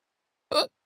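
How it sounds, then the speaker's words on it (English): One short, abrupt hiccup from a man, close and clear, isolated against silence during a Minecraft gaming session. "Why do I have the hiccups?"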